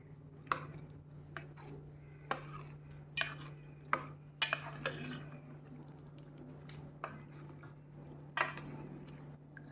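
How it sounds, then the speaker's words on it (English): Sweet Goan mango pickle is stirred and mixed in a pot with a spoon, producing intermittent scraping clinks and knocks against the metal over a steady low hum, close and fairly quiet, with no voices. "Mix this properly."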